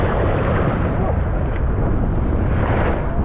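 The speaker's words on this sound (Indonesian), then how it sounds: "Wah, anginnya tambah kencang ini bro." Strong wind roars outdoors in stormy weather, a loud, dense, buffeting rush that batters the microphone without a break and drowns out everything else.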